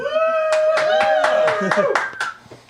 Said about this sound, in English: One guy clapping